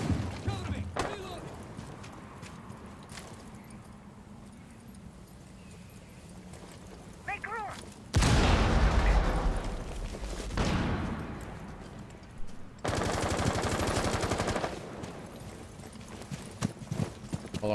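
Gunfire in the video game Rainbow Six Siege, with dense rapid bursts of automatic fire in two loud stretches, separated by quieter game noise and scattered single shots, with voices talking at times.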